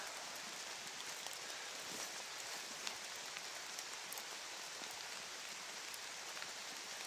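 Steady rain falls throughout, a dense even patter with scattered louder drops tapping on a surface nearby, no voices present.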